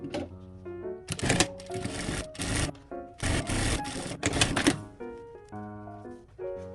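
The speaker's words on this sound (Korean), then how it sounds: "끝선에 양쪽 모두 맞춰서 박음질을 해주시면 돼요." A sewing machine stitches coat lining seams in short rapid bursts with pauses between them, close and loud, while background music plays throughout.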